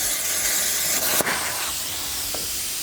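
A cutting torch hissing steadily as it cuts aluminum, a loud continuous rushing spray with a sharp pop near the middle, close by.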